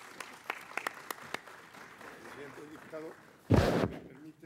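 An audience at a forum on constitutional welfare rights gives a magistrate a short, loud burst of applause, preceded by a few scattered knocks and taps.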